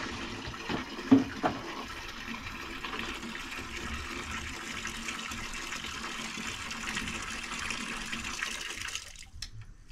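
Water runs steadily from a tap for washing inside a small house, a continuous hiss lasting nearly the whole stretch with a couple of brief knocks early on, then stopping abruptly at the end.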